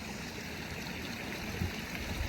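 Fast-running, clear snow-melt water of the River Kinder off Kinder Scout rushes and gurgles continuously at close range, a steady broadband wash of stream noise with no voices.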